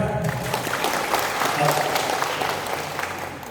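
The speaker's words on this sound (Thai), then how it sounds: "พวกเราดีใจขอเสียงปรบมือนะครับ" Audience at a Thai seminar on cannabis cultivation breaks into sustained applause, many hands clapping evenly throughout, with some crowd murmur beneath.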